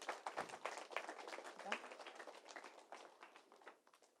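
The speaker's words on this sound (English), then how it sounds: "you can give her a round of applause for that" A gathered audience at an academic education centre claps for a student who has just finished, a soft, fairly distant patter of many hands that holds steady before thinning out.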